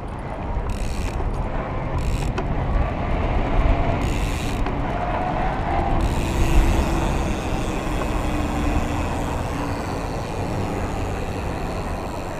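A Nicolai E-BOXX 2 electric cargo bike with a Bosch motor is pedaled, giving a continuous close mechanical whir with ratcheting, gear-like clatter and no talk.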